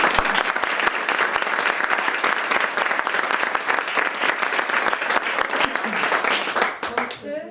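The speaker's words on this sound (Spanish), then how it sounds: "Un aplauso." An audience at a children's literature gathering applauses the guest authors, dense sustained clapping from many hands that fades near the end as a voice begins.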